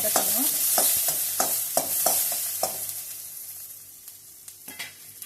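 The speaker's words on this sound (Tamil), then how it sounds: "இப்போது கொஞ்சமாக எண்ணெய் ஊற்றிட்டு அதில் சீரகம் போட்டு கொஞ்சம் வெங்காயம் போட்டு வதக்கணும்" Onions and cumin sautéing in a little oil for drumstick soup, a steady hiss overlaid with a series of sharp, regular scraping stirs that thin out and fade toward the end.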